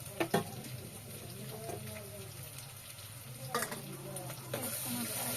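Green chillies and ginger garlic paste sizzle steadily in a hot pan while being stirred, with a few sharp scraping clinks of the spoon against the metal over a continuous frying hiss.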